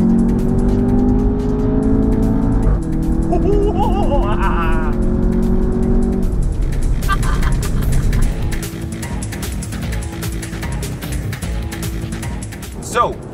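A 2015 Audi TT 2.0 TFSI sports car engine rumbles and revs, then its exhaust crackles and pops in rapid bursts, close and loud.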